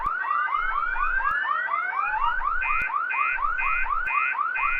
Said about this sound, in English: I need to go check the fire alarm.